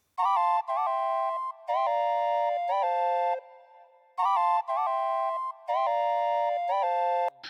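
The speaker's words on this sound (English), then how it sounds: "So the ocarina sounds like this on its own." A Cork Tritone synth ocarina voice plays alone in a gospel makossa instrumental, a bright, pure-toned melodic phrase of short repeated notes that pauses briefly and repeats, clean and upfront.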